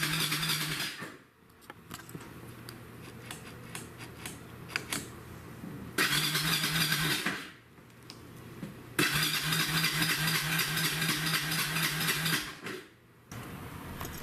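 A Kawasaki Bayou 300 ATV cranks repeatedly in long bursts with a starter whir and uneven sputtering that never catches, short pauses between attempts, close and clear without talk.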